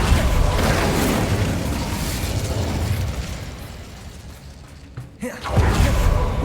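An Incendio fire spell erupts in Hogwarts Legacy with a heavy, roaring whoosh that trails off, followed by a brief pause and a second burst of rumbling flame.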